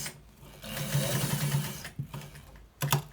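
Sewing machine stitching a white trouser: a run of rapid needle clatter, then a pause and two short bursts of stitching near the end, close and moderately quiet with no voices.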